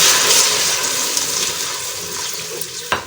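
Water is poured into a pan of frying onion, garlic and ginger paste for a pumpkin chicken curry, giving a steady rushing, sizzling wash that fades slightly over a few seconds, close and fairly loud.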